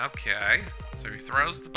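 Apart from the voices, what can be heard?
None of the usual background noises is heard.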